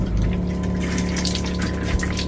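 Water from a shower in a van's small shower room runs in a steady, close, rushing hiss with no voices.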